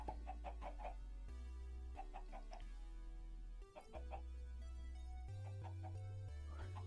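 Chickens in the Minecraft video game cluck in short repeated bursts over steady background music, with no talk.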